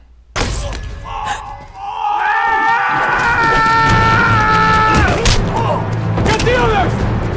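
Screaming during an attack scene in the 2008 film Outlander, loud overlapping yells and shouted cries with thuds and battle noise under them, continuing for several seconds.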